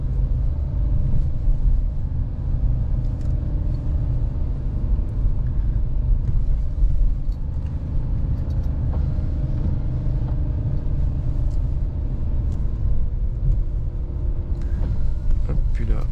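A Dacia Duster 3 1.2l 130cv 4x4 Pack Adventure driving a stony dirt track, a steady low engine and road rumble heard from inside the cabin, with faint knocks from stones toward the end.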